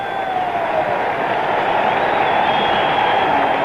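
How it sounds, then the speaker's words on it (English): Sustained crowd applause greeting Mickey Mantle at the 1968 All-Star Game, a steady dense wash of clapping from a large stadium crowd heard at a distance, with no pauses. "Listen to the applause."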